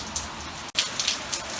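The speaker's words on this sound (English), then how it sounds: "If you can even hear me over this rain." Heavy rain falls steadily outdoors around a vintage Chevy, a dense hiss of drops spread evenly through the clip with one brief dropout midway.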